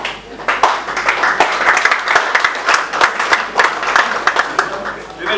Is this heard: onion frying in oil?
no